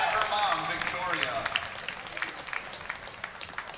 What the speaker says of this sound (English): our next manager, round of applause for Justice Gregory